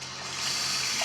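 Tap water running into a cooking pan as potatoes are readied for boiling, a steady broadband gush that holds evenly and grows a little fuller over about a second, with no voices.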